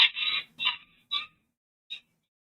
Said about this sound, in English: Oh, apparently some birds are fighting.